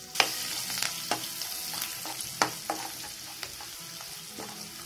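Curry leaves, garlic and ginger sizzle in hot oil with a steady fry hiss, broken by sharp spattering pops and a few stirring scrapes, close and alone.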